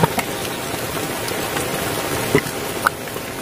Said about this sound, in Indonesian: Hujan ini dia mah gede.